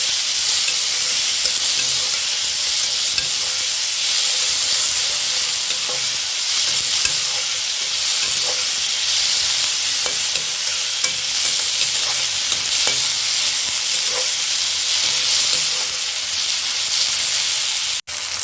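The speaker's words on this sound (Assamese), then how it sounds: "এইকেইটা মই ভালদৰে ভাজি দিলোঁ" Steady, loud sizzling of chopped capsicum frying in a pan, with frequent soft scraping strokes as they are stirred throughout; no voices.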